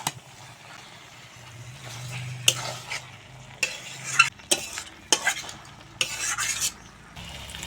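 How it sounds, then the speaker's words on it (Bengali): Fried flat beans stirred into a spice mix in a pan, a quiet low sizzle broken by several sharp scrapes and clatters of a spatula against the metal. "শিম দিয়ে আবারও মশলার সঙ্গে ভালো করে মিশিয়ে নেব।"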